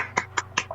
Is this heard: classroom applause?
yes